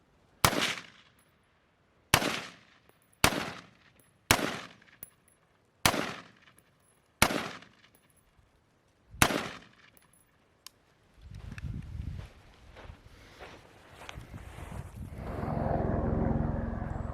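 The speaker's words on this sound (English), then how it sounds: "I'm gonna use them to see if my rifle's still sighted in" Seven sharp rifle shots at targets ring out one after another at roughly one-second gaps, loud and close, followed by rustling and a rising wash of wind or movement noise.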